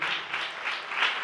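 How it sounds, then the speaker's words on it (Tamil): A church congregation claps hands in a continuous dense burst of applause, loud and even with slight swells in intensity, no distinct voices over it. "நல்ல 2 கைகளை தட்டி கர்த்தருக்கு ஸ்தோத்திரம் செலுத்துங்களேன்"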